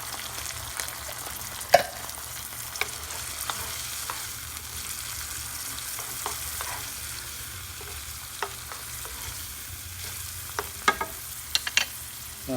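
Chipotle salsa and canned organic diced tomatoes land in a hot pan and sizzle with a low, continuous frying hiss broken by scattered pops and clicks, moderately quiet with no voices.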